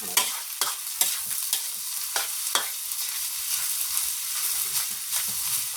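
Pork stir-fried in a pan for three people, with a steady sizzle and repeated scraping, clacking strokes of a spatula tossing the meat, close and clear with no talking.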